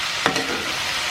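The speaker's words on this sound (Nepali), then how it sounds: "मसला लगाएपछि यसलाई पकाउँछु 4-5 मिनट जति यतिकै फ्राई गर्छु" Food fries with spices in a pan, a dense steady sizzle close up with one brief stir partway through.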